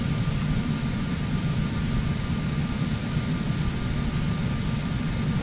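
Phenom 300 jet engines hold a steady idle in the Prepar3d flight simulator, a constant airy whine and rush at even level with no talking.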